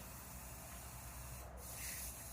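Spray paint hisses steadily from a can onto a skull mount being prepared for hydro dipping, a continuous close spray with a brief louder burst partway through.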